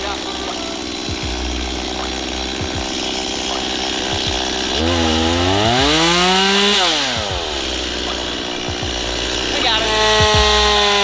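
A chainsaw revs high while slicing another segment off a log at a waterfront cottage property, the engine pitch dipping and rising under load in one long cut; people speak briefly nearby.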